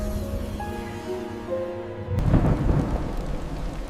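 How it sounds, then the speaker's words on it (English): A low rumble of thunder swells in with steady rain on a cold night. The storm noise rises after a quiet stretch with a faint musical tone and carries on without any talking. "Outside, thunder rumbled, while the lonely house stayed completely silent."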